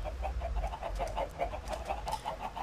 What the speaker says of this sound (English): So many turkeys in here.